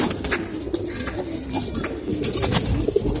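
Moulting pigeons cooing softly and repeatedly nearby, with rustling and bird chatter in the background; no talking.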